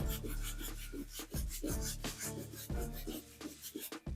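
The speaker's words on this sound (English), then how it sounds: "You do need something more firmer to get rid of those tougher stains. The soft bristle brush will not do it." A stiff-bristled brush scrubs stains off Air Max 90 sneakers in close, loud, rhythmic rasping strokes, several quick back-and-forth passes with brief pauses between.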